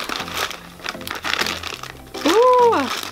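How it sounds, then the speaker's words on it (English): Paper packaging and tissue paper being opened and ripped during a Secret Santa gift unboxing, close crinkling and tearing bursts mixed with a person's voice. "So much opening and ripping in this video"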